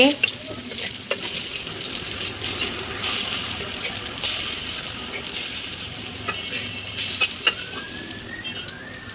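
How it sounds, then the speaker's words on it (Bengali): Fritters (bora) fry in hot oil in a pan, a continuous dense sizzle with occasional spatters and scraping stirs, close and fairly loud with no talking. "এখানে আমি বড়াগুলো ভেজে নিচ্ছি"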